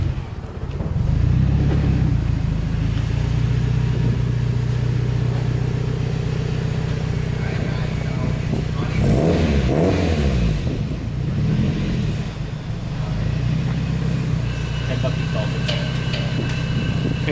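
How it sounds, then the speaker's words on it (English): A Mazda Miata's engine idles with a steady, close, low rumble, then swells into a brief rev midway before settling back to a constant drone, with people talking faintly over it. "Car's running."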